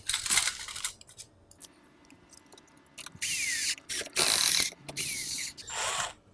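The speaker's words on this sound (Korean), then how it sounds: "볼트 체결할 때 조금 까다로워요" Screwdriver driving bolts into a gaming PC case during assembly, heard as close metallic scraping and ratcheting bursts with sharp clicks and pauses between them, and no talking.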